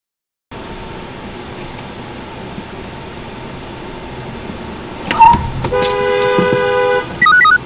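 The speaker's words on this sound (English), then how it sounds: "Then you honk back at me." A car horn honks in a New Jersey street, with a short blast followed by longer sustained toots near the end, loud and close over the steady hum of the car's air conditioning inside the vehicle.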